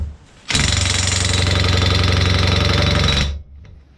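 A Parkside 20V cordless impact wrench hammers hard against a nut it cannot loosen, one loud sustained burst of about three seconds of rapid rattling impacts, close up, with no talk.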